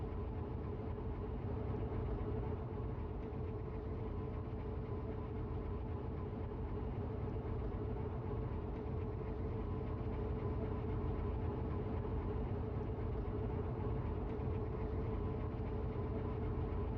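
A game train rolls into a station with the brake released and a little power applied, giving a steady low engine rumble and rail noise that holds evenly throughout, with no voices.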